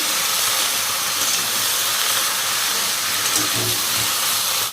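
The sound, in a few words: stirring turmeric and cinnamon frying in pan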